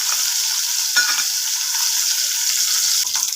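Garlic, shallots, green chillies and dried red chillies sautéing in hot oil in a pot give a steady close sizzle and hiss, with a few brief stirring scrapes near the start and end.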